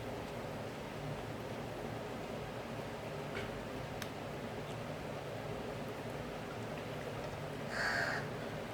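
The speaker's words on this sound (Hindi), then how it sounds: "अब यहाँ से अगर तुमको कौवे की आवाज़ आ रही होगी, वो कौवे की आवाज़ें मेरी नहीं है।" Crows caw faintly in the distance over a steady background hiss, with a brief louder call near the end.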